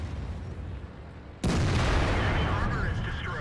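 A tank cannon fires in World of Tanks, a sudden loud boom after a quieter stretch of engine rumble, its heavy blast sustained and echoing to the end.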